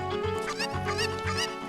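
Cucco chicken from the video game Ocarina of Time clucking in a steady string of close, loud squawks over a droning game music backdrop.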